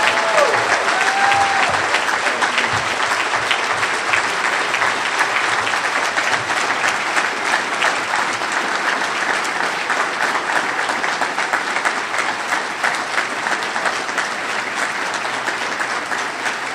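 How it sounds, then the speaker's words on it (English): An Oakland audience gives Ambassador Andrew Young a long, loud round of applause, with dense clapping from a large crowd sustained throughout and a brief cheer near the start. "Give Ambassador Young an Oakland round of applause."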